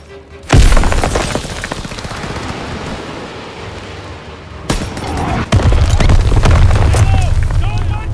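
A sharp, heavy boom breaks out as a grenade hits a half-track in Call of Duty WWII, followed by rumbling battle noise, a second loud blast and a continuing low roar. Gunfire crackles throughout, and a voice speaks early on.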